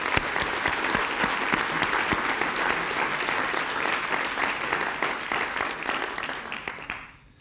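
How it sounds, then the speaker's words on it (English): Sustained audience applause at a healthcare conference keynote, honoring student teams from five schools after a competition; dense, even clapping that holds steady for several seconds before tapering off at the end. "let's give them a big round of applause"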